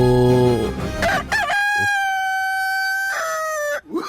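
A rooster crows loudly and nearby, one long sustained cock-a-doodle-doo with a rising start and a drawn-out steady tone, heard alone in a Telugu comedy skit.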